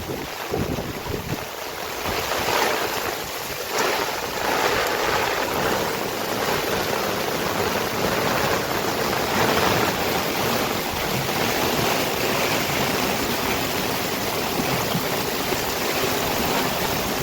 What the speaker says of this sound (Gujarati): પૂર આવી ગયું. જોરદાર પાણી આવ્યું છે.